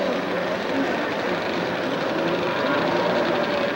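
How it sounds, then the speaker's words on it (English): Jet ski engines idle and rev on the starting line of the 1984 World Jet Ski Championship, a dense, loud, continuous motor roar with a commentator talking over it. "The engines are cranked up and ready on the line"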